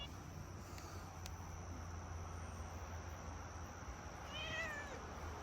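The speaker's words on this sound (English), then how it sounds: "You're just gonna meow at me?" A single short cat meow near the end, faint against a quiet background with a low steady hum and chirping insects.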